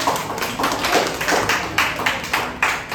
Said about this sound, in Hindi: ताली बजाओ इस बच्चे के लिए